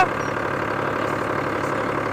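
An American-made Oliver three-cylinder diesel tractor idles nearby, giving a loud, steady, even engine rumble with no change in pace.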